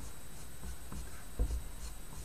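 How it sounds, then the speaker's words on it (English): A pencil traces the outline of a can lid lightly on paper, giving a soft, close scratching and rubbing that stays faint and continuous, with a slightly firmer stroke near the end. "we'll trace the shape of the top lid just lightly in pencil"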